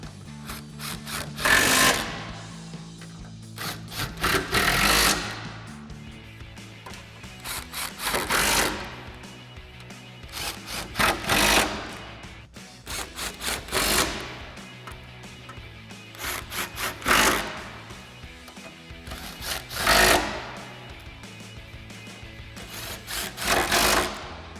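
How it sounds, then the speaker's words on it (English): Impact wrench with a 13mm socket and extension tightening bolts on a Jeep Wrangler JK tire carrier mount: repeated short, buzzing bursts every few seconds, close and fairly loud. "Then we'll again use our 13mm socket and extension on our impact to tighten all these down."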